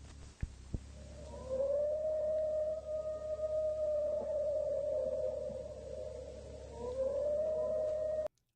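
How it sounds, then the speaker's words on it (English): A civil defense danger alarm siren in the Eastern Province, a sustained wailing tone that glides up and down, faint and distant, over a low hum, dipping and swelling again before cutting off abruptly. "Civil Defense in the Eastern Province has sounded the danger alarm siren."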